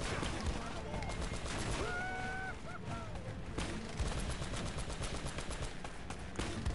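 Rapid machine gun fire in the action game Uncharted, dense sustained bursts under a steady game soundscape, with a player talking over the shooting.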